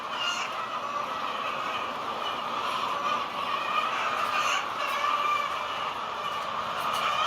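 Many hens crowd an indoor egg barn as eggs ride a conveyor, a steady dense murmur of clucking and rustling with faint mechanical hum, fairly even in loudness throughout.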